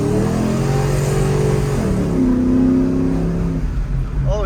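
A cammed truck's engine pulls hard under acceleration, its loud, close, lumpy drone climbing in pitch, easing at a gear change, then climbing again.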